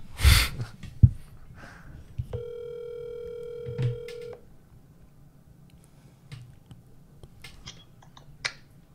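An outgoing phone call rings once, a steady electronic ring tone lasting about two seconds, after a couple of loud knocks and faint movement, then quiet room noise with small clicks.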